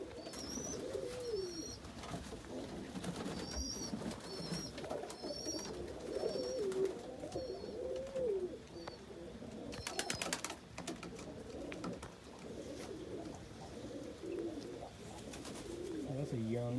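Almond homer pigeons coo inside a loft, repeated soft rolling coos at close range, with occasional clatter and rustling and some low background noise.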